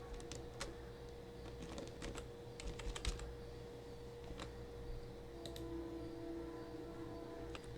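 Keys on a computer keyboard tapped in short bursts as a folder name is typed, quiet close-up clicks over a steady low electrical hum with no talk.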